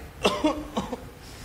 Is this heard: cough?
yes